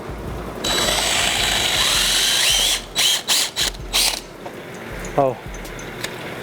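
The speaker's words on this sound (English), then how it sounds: "we will drill that one as well, the pilot hole." A power drill whirs steadily for a few seconds drilling a pilot hole in a 2008 Mercedes-Benz E-Class bumper for a parking sensor, then runs in short bursts before stopping.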